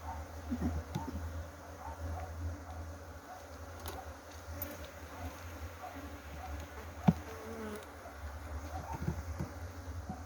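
Honeybees hum from an open colony during a hive inspection for varroa mite, a faint, continuous low buzz with occasional soft knocks of frames and no talk.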